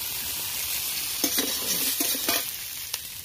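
Ridge gourd frying in oil in a home kitchen pan, a steady close sizzle with a few sharper bursts of stirring and clatter partway through.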